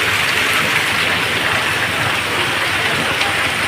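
Heavy rain pours down in Chhapi village as a dense, steady downpour hissing loudly on surfaces all around, unbroken from start to finish with no voices.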